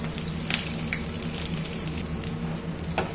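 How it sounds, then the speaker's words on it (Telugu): Onions, dried red chilies and curry leaves frying in hot oil for a ridge gourd peanut curry, a steady close sizzle and crackle with a few sharper pops, no voices. "ఆనియన్ ఫ్రై అయినాయి"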